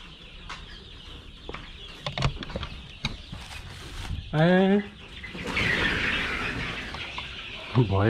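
Chickens on a farm clucking and squawking nearby, one loud rising call in the middle and scattered short clucks, with people talking in the background.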